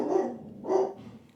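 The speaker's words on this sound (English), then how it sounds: "oh, my dogs are barking." Dogs barking indoors: two short bursts of barking about half a second apart, moderately close and clear, with no talking over them.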